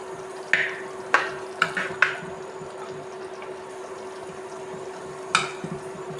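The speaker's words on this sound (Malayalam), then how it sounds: "ഇനി അതിനകത്തേക്ക് നമുക്ക് മീൻ കഷ്ണങ്ങൾ ഇട്ട് കൊടുക്കാം. നന്നായി മിക്സ് ചെയ്ത് കൊടുക്കാം." Tuna pieces are stirred into a thick curry gravy flavoured with kudampuli and chilli, a few sharp spoon scrapes and wet stirring sounds over a low steady hum, close and without voices.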